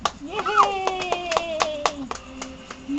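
A child claps hands several times in quick, uneven bursts at close range, while a child's and adults' voices carry on high-pitched, sing-song talk over the claps.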